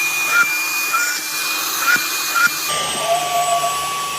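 A professional carpet, sofa and curtain cleaning vacuum runs with a steady whining roar up close, its pitch shifting partway through, with brief bumps and clicks along the way.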